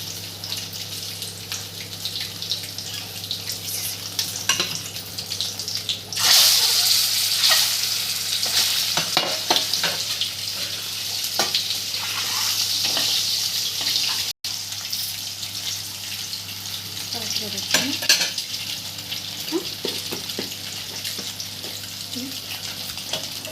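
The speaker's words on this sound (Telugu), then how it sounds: "ఎగ్స్ దాంట్లో వేసేసుకుందామండి అవి మంచిగా వేయించేసుకొని పక్క తీసుకోవాలి" Eggs fry in a pan for a Telangana-style egg curry, a steady close sizzle with brief louder bursts and occasional scraping of a utensil, and a voice talking now and then.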